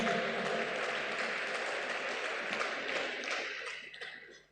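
Audience applause at a ceremony about an Entebbe International Airport modernization project, a broad fairly distant wash of clapping that holds steady, then fades out near the end.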